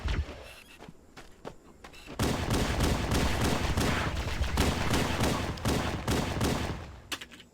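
Sustained rapid automatic gunfire in Halo: Combat Evolved on Legendary difficulty, with a few scattered shots at first that build into a loud, dense fusillade of bursts lasting several seconds.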